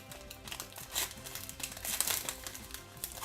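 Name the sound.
opening Pokemon card booster pack with scissors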